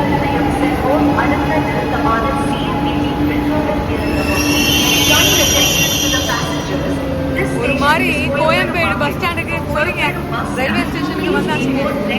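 A Chennai Metro train runs on the rails with a steady rumble and high metallic wheel squeals, while people talk and a station announcement plays over it.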